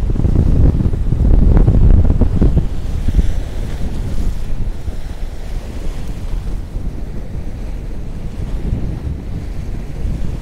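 Strong wind buffets the microphone on a beach at Saranda, Albania, with surf rolling in beneath it; the roar is loudest in the first few seconds, then settles into a steady, blustery wash.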